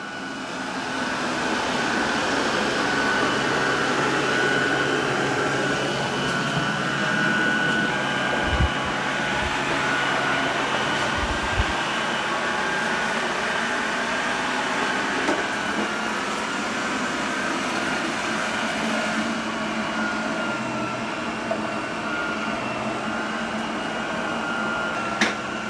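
An iRobot Roomba Combo Essential robot vacuum and mop works across the floor, giving a steady droning whir with a constant tonal hum and a few soft bumps throughout.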